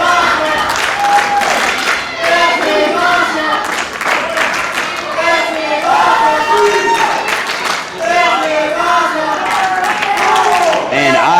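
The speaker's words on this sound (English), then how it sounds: "Listen to this crowd." A wrestling crowd at a pro wrestling show claps and cheers loudly after every athlete in the ring goes down, with rhythmic group chanting in time with the clapping, sustained close and full throughout.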